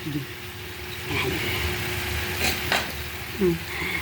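Adobong pusit stirred in a pan gives a soft sizzle with scraping and a few utensil clinks against the pan, close by.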